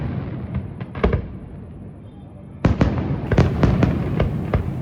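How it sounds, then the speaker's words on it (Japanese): Fireworks display over Dubrovnik, Croatia, heard from a balcony: a string of sharp bursts and crackling pops at moderate distance, sparse at first, then a denser volley of repeated booms, with no talk. "ベランダで飲もうと思ったら花火大会やってました"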